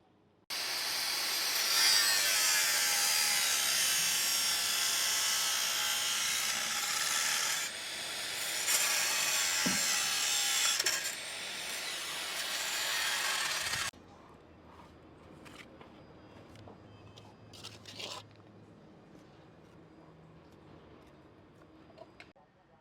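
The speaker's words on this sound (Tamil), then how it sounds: "இப்போ இந்த ராடை நமக்கு வந்து கட் பண்ணுவாங்க." A steel rod being cut at a post-tensioned beam construction site during tendon stressing work. A steady, loud abrasive cutting noise runs for about fourteen seconds with short dips, then stops and leaves quieter site ambience with scattered clatter.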